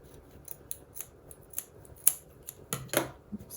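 Scissors snipping through fabric while trimming a sewn cap, a series of short crisp close cuts, sparse at first and then a louder cluster of snips near the end, with no talking.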